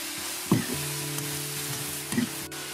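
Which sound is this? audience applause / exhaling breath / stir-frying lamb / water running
stir-frying lamb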